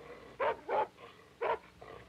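A dog barks in a 1965 cartoon about a turtle, giving three short, moderately loud barks in an uneven rhythm, two close together and then one after a pause, with no speech over them.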